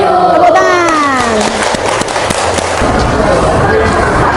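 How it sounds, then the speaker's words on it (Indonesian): Schoolchildren in a classroom applaud and cheer at the end of a maths lesson, a loud, continuous burst of clapping with excited shouting and voices mixed in. "Tepuk tangan."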